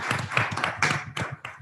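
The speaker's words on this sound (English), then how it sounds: "So can we give a big clap to all those people?" An audience at a library meeting claps together in a brief, dense patter of hand claps that thins out into a few scattered claps at the end.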